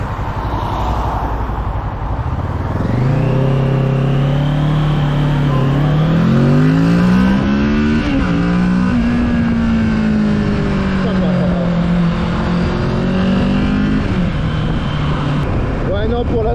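A Kawasaki Z650 motorcycle engine revs up through the gears, its pitch climbing steadily, dipping at a shift and climbing again before settling into a sustained high-speed drone, loud and close with wind rush around it.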